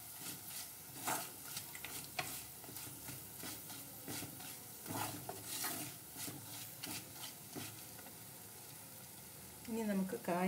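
Raw lemon pickle with chili and turmeric powder is mixed in a pan off the flame, a soft low sizzle under rhythmic scraping stirs, with a brief voice near the end.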